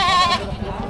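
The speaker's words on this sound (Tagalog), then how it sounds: "Tatlong kambing na." Goats bleat at a livestock auction in Padre Garcia, Batangas, with a loud, wavering, close call that fades into low crowd noise.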